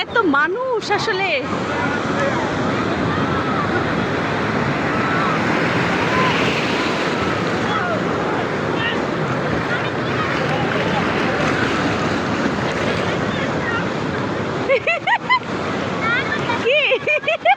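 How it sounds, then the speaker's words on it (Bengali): Strong sea waves surge and break on the beach at Cox's Bazar, a loud continuous wash of surf mixed with wind buffeting the microphone, with voices of people on the shore heard at the start and end. "কেমন জোরে জোরে ঢেউ আসতেছে"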